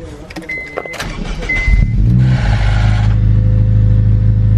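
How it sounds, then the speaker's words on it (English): A Honda Type R engine with a sticky starter motor and 4-2-1 manifold cranks briefly after some clicks and rustling, then catches and settles into a loud, steady idle up close. "Sticky starter motor."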